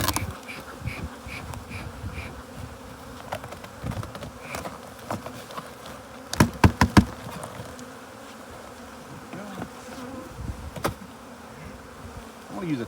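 Caucasian honey bees buzz densely up close as they are dumped onto the top of a hive, a constant droning swarm with sharper individual fly-bys and a cluster of knocks partway through.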